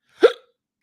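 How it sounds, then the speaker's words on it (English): A man gives a single short, sharp hiccup, loud and close, followed by silence. "I'm sincerely asking for your prayers to help me get over this hiccup battle"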